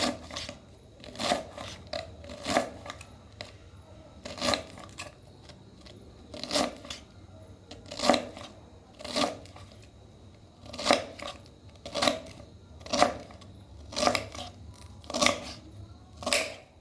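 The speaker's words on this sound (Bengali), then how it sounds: "তো এখন আমি ক্যাপসিকাম কেটে নিচ্ছি, এরপর বাকি যা যা আছে সেগুলো এইভাবে আমি কেটে নেব।" Knife chopping capsicum and other vegetables on a cutting board, a steady series of crisp, close chops in irregular rhythm, heard alone without talk.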